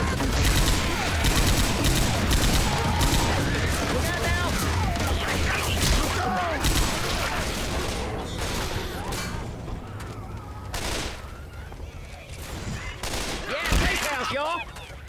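Dense video-game gunfire as players shoot zombies in Left 4 Dead 2 survival mode: rapid bursts and overlapping shots, loud and close, thinning out toward the end, with voices talking over it.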